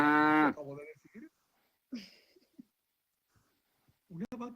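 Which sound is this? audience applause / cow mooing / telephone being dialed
cow mooing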